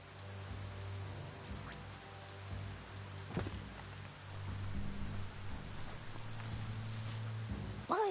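Steady rain patters on surfaces in the Biomutant video game, a soft continuous wash with a faint low hum beneath and a few brief sharper sounds, no voices.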